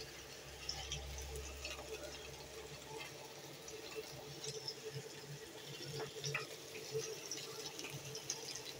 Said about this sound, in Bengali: মাছ ভাজতেছি এখন।